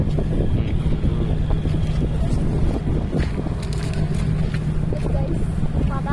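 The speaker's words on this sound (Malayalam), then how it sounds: "ബോട്ട് പോകുന്നു." A boat moving through open water near Perumbalam, Alappuzha, with a steady low engine drone and rushing water, wind buffeting the microphone and voices in the background.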